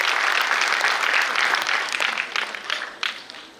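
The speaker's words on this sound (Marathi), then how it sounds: "त्यांच्यासाठी एकदा जोरदार टाळ्या वाजवा" An audience at a school's annual function claps loudly in a sustained round of applause that gradually thins and fades toward the end.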